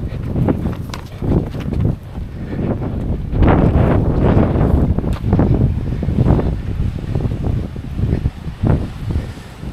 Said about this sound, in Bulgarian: Този вятър ме щупва от всякъде.